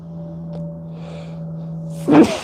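A single sneeze bursts out near the end, close and loud, over a low steady hum from a hobby bench where slot car parts are being sanded and glued.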